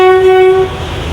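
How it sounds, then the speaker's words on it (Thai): On a railway line in Vietnam, a train sounds a loud, close, steady horn blast lasting about half a second, followed by a low rumble as it comes along the tracks. "รถไฟกำลังจะมา"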